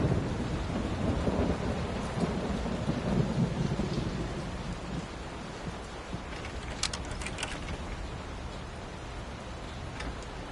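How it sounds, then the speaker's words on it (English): Stormy weather in the horror game Layers of Fear: steady rain with a low rolling thunder rumble early on that fades, leaving rain and a few sharp drip-like ticks later. "Will this storm ever run out of rain?"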